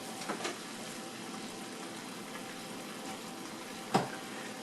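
Covered pot of collard greens steam cooking, a low steady hiss and gentle bubbling with a brief knock or clatter near the end.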